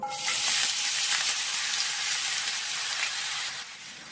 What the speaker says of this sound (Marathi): कांदा मऊ होईपर्यंत परतवून घ्या